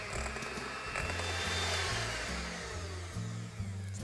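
An electric mixer churns mascarpone into a creamy sugar mixture for a classic tiramisu, giving a steady, loud motor whir with shifting pitch that runs the whole time with no talking.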